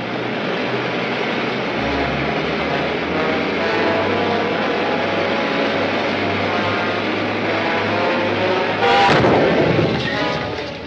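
A ray gun fires from a ship in an old science-fiction serial, a sharp burst near the end over steady engine-like drone and broad rumbling noise.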